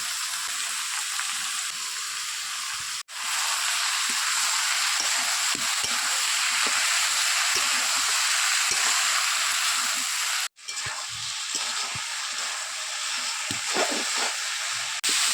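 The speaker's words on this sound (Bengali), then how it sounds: "এবার লঙ্কা লবণ হলুদ দিয়ে ভেজে নেব" Loud, continuous sizzling of potatoes and eggplant frying in a pan with chili, salt and turmeric, a dense hiss with occasional crackles and two brief breaks in the sound.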